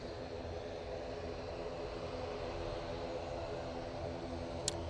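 A propeller aircraft at Manchester Airport produces a steady, broad engine drone with a low, continuous hum that holds at an even level throughout, with no one speaking.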